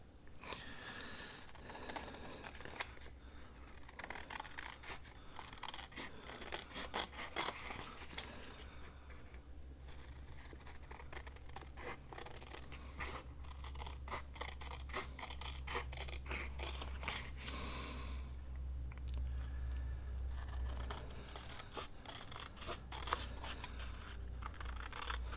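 Scissors trimming paper to form a pocket for a January journal: repeated quick snipping and crisp paper rustle in irregular bursts, close and fairly quiet, with no talking.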